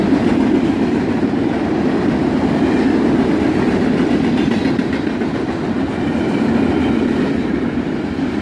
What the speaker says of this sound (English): The train passed